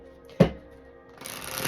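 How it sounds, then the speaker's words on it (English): A new, stiff deck of cards is shuffled by hand in two piles, giving one sharp riffle snap followed by a longer, brighter riffling rustle that builds toward the end. "I also wanted you all to see the cards being shuffled."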